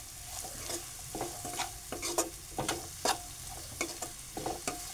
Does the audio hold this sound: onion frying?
yes